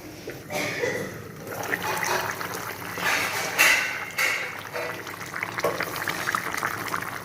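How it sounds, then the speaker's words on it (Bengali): Fish curry with rohu, potato and pointed gourd bubbling in a pot, a steady moderately loud boiling and sizzling wash that rises and falls throughout with no talking. "তাড়াতাড়ি সতে রান্না করছি মাছ পটল আলু একসাথেই ছেড়ে দিয়েছি"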